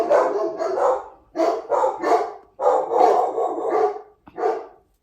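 A dog barks repeatedly and loudly up close, a run of sharp bow-wow barks in quick bursts with short pauses, ending in a final yip.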